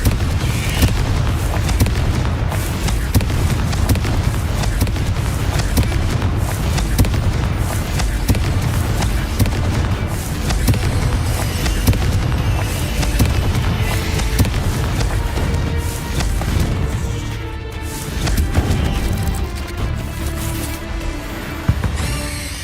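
Booming Confringo spell explosions in Hogwarts Legacy pound continuously, loud and dense, in a sustained barrage of blasts with rumbling low impacts throughout.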